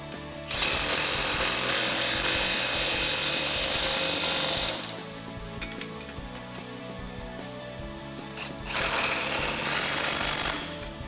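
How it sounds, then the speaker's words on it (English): A power tool rattles in two long bursts, about four seconds and then two seconds, separated by a quieter pause. It is tightening suspension bolts with a 17 mm deep socket on a 2007-2021 Chevrolet Silverado or GMC Sierra 1500 during a leveling lift kit install. "Grab a 17 deep socket and a wrench and tighten those 2 down."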